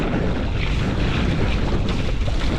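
Strong wind roars steadily outdoors in cold, wet terrain with icy, waterlogged paths, a continuous broadband buffeting rush close to the microphone with no break.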